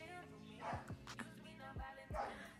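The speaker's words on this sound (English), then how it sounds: "ignore the barking, I'm sorry, he's horrible" A dog barks indoors in a home setting, several sharp yips and woofs spaced irregularly, fairly close but moderately quiet, with some whimpering tones between barks.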